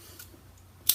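Scissors snip through orange wool once near the end, a single sharp, close cut after a quiet moment.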